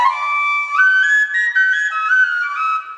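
A McManus big bore tin whistle plays a steady, rounded melody up close, stepping through several sustained notes with a smooth, balanced tone and no screech, alone without any talking.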